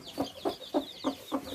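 Hens cluck in a run of five short, evenly spaced bursts at close range while being pecked on the head, with softer bird calls above them and no talk.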